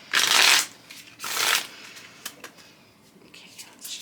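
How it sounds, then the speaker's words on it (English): A deck of cards is riffled in two quick bursts of crisp, close flutters, followed by softer handling clicks. "they're going to do a quick shuffle"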